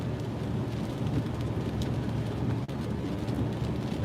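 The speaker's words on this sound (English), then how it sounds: "This is not just a little rainstorm." Heavy rain during Hurricane Florence, heard from a car being driven through the storm. It makes a dense, steady hiss of downpour that stays loud and constant throughout, with no voices.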